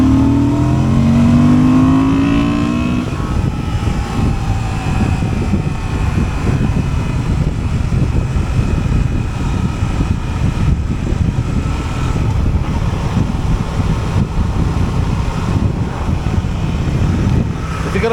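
A 2023 Honda XL750 Transalp motorcycle accelerates hard from third gear, its engine note rising steadily and loudly for several seconds before settling into a sustained, smooth roar with wind noise.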